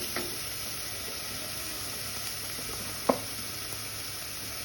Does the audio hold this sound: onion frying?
yes